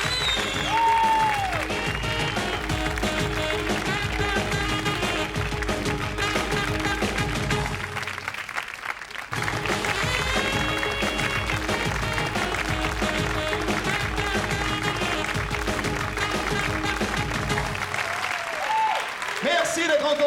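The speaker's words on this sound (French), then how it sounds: "Applaudissez plus fort, il le mérite." Studio audience applauding steadily on a French TV hidden-camera show, dense continuous clapping that dips briefly midway then resumes, with a host talking over it.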